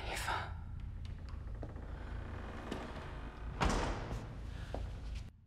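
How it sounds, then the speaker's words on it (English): A door shuts with a dull thump midway through a quiet TV drama scene, preceded by soft rustles and a faint breath over low room noise. "Closing the door behind you,"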